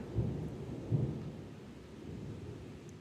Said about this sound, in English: Can you hear the thunder in the background?